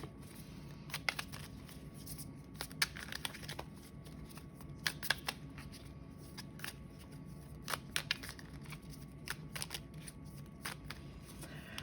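Tarot cards shuffled and handled in a pick-a-card reading, with steady soft riffling and scattered sharp card snaps close by over about twelve seconds, no speech.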